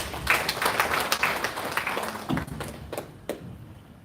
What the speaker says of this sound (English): Let's clap for him as he gets to the stage.